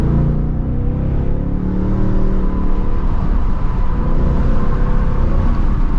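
A 2025 Ford Mustang GT S650 with a 10-speed gearbox gives a steady, loud engine roar and road rumble from inside the cabin, holding a constant drone with no talking.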